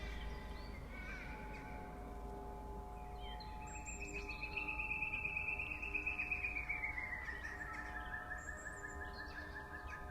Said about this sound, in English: As I move my hand, you're hearing a bird swooping around the room